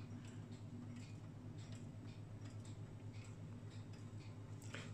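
Hermle German mantel clock ticking at a steady regular rhythm, quiet and close, over a low constant background hum with no talking.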